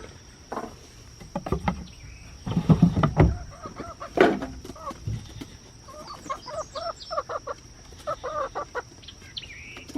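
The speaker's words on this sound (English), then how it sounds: "Let's go let the chickens out." Hens cluck in short bursts and repeated patterns, with scattered thumps and rustling nearby and high insect-like buzzing in the background.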